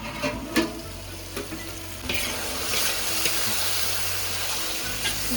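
Tomatoes with salt sizzle steadily in a pan while cooking down for an egg drumstick curry, a continuous close frying hiss broken by a few soft stirring scrapes and clinks.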